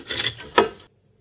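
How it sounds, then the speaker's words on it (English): A deburring tool rasps around the breakout on the underside of freshly drilled holes in metal for workshop weights, two short scraping strokes close up, then quiet. "I use my deburring tool to clean the breakout on the underside of the holes."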